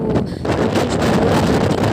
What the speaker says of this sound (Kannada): ಅಷ್ಟು ಗಾಳಿ ಬೀಸ್ತಾ ಇದೆ